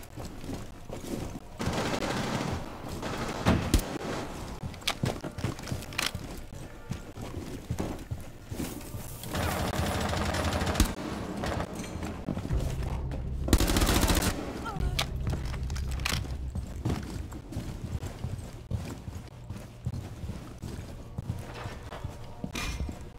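Gunfire bursts from Rainbow Six Siege crackle through a busy, dense game soundscape, with a loud sustained blast near the middle and speech running underneath.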